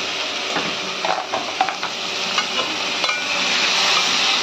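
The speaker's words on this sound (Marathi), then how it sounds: "आता टोमॅटो टाकून घेऊया. याला पण थोडासा भाजून घेऊया आपण." Tomatoes fry after garlic paste in a pan for a sandge curry, a bright steady sizzle punctuated by clinking spoon strokes and scrapes against the metal as they are stirred.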